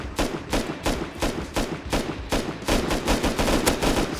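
Rapid bursts of gunfire from the video game Rust, loud and close, firing in a fast steady rhythm of repeated shots with brief pauses, no talking over it.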